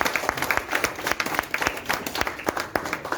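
An audience at a farewell ceremony claps to welcome a guest onto the stage, a close, dense round of applause with sharp individual claps throughout.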